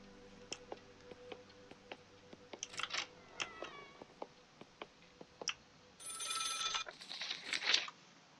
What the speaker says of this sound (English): I hear a telephone